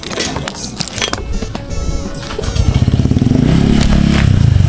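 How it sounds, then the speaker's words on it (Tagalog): Clattering and scraping as a motorcycle is moved by hand, then its engine rumbles steadily up close, growing louder toward the end. "Pasok ko itong motor"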